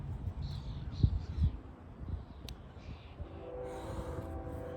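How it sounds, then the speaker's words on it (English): A train rumbles faintly in the distance outdoors, its low drone rising gradually with a higher tonal horn-like note near the end, under occasional bird calls and quiet nature sounds. "I love the sound of a train"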